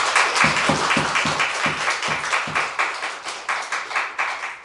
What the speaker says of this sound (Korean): 완치할 수 있도록 박수 한번 칩시다